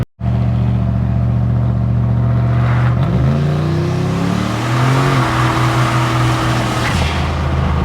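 A turbocharged Chevrolet El Camino on a road drives loud and close, its engine droning steadily and then climbing in pitch as it accelerates through a gear change around the midpoint, with a continuous roar and rushing noise throughout.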